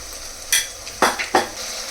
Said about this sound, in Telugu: ఈ అల్లం వెల్లుల్లి పేస్ట్ కూడా పచ్చి వాసన పోయే వరకు ఫ్రై చేసుకోవాలి.